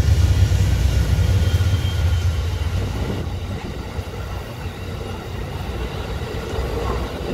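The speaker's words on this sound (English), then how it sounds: ""Be aware of trains," because they're fun to see zoom by" A train rumbles past near a bar at Saltwater in Palm Beach County, a heavy low roar that is loudest at first and slowly fades into a steady, softer rumble.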